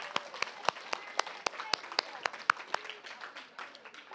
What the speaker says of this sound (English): everyone give a round of applause for Miss Jans